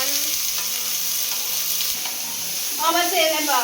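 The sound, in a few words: frying chicken biryani ingredients until golden brown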